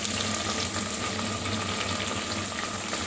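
Chopped onions sizzle in hot oil in a pan for namkeen pulao, a steady close hiss with faint crackling that holds evenly throughout without a break.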